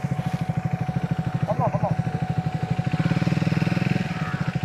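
Several motorcycles including a Royal Enfield Himalayan, a Triumph, a Honda and an Impulse ride together, a steady pulsing engine drone close by, with talk over it.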